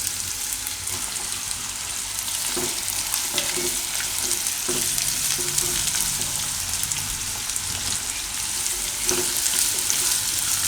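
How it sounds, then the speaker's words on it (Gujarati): Radish and beetroot shaak cooks in oil in a pan, giving a continuous close frying sizzle broken by scraping spoon strokes and light clinks as the vegetables are stirred, with no talking. "થોડીક વાર આને પાકવા દેવું, વચ્ચે વચ્ચે હલાવતા રહેવું."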